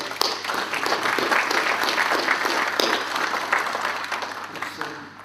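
A room of attendees at a historic vehicle federation annual general meeting applauds, a sustained patter of clapping for about five seconds at moderate distance, tapering slightly at the end.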